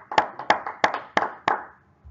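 Hands clap five times in a steady, even rhythm in an empty room. Each clap is sharp and close, with a short room echo, and a quiet pause follows the last one.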